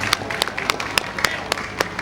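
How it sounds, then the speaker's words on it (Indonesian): Audience applause at a school cultural event, SMKN 1 Kuripan, heard as sparse, sharp claps spaced unevenly over a noisy hall background, moderately close rather than a full ovation. "Tepuk tangan semua dulu untuk SMK 1 Kuripan."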